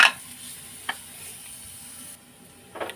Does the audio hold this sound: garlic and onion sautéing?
yes